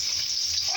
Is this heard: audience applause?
no